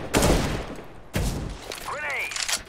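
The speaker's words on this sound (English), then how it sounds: "he shot me through the wall" Gunfire in CS:GO: two sharp, loud bursts of shots about a second apart, each trailing off, followed by a short ringing, whistling ricochet-like sweep.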